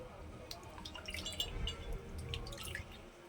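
Water sloshes and drips as something is rinsed by hand, with splashes and trickles close by and no talking.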